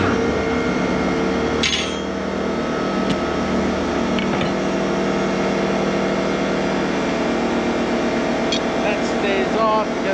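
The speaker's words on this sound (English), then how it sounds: "Now I'm going to hit this to recharge the compressor." An air compressor on a mobile dimension saw runs loud and steady throughout, a continuous mechanical drone with a sharp knock near the start and faint clanks on top.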